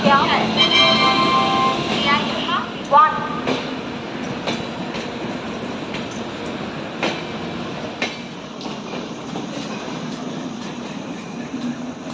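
A Sealdah-Dankuni local train pulls away from a station platform, with rumbling wheels, clattering rail joints and brief squeals, steady and close, along with platform noise and some voices.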